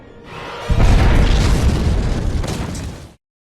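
A big explosion in a film scene: a low boom bursts in after a brief lead-in, then a loud roaring rumble sustains for about two and a half seconds before cutting off abruptly.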